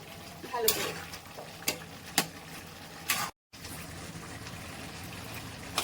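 A spoon scrapes and clacks against a pan while bottle gourd with spices is stirred, giving several sharp knocks and scrapes over a soft background of cooking sounds, with a brief cut to silence partway through.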